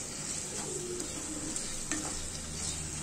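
Chicken pieces with spices being stirred and fried in a pan for dhaba-style chicken curry, a steady close sizzle with soft scraping strokes of the spoon running throughout, no voices.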